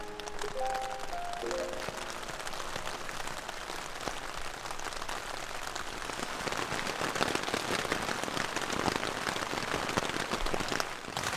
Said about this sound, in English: the rain is not showing any signs of letting up. In fact, it actually seems to be picking up.